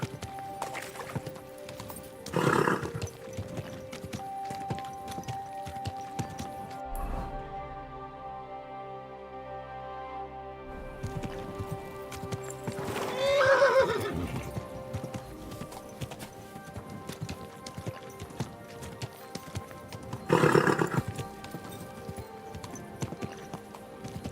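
Horse hooves clip-clop steadily on a town street in Kingdom Come: Deliverance 2, with a few louder whinnies and snorts rising above the rhythmic gait at close range.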